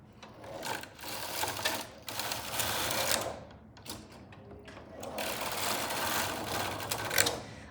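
Silver Reed knitting machine carriage sliding back and forth to knit tubular rows, repeated mechanical whooshing rattles in rhythmic passes of roughly one to two seconds, close and alone.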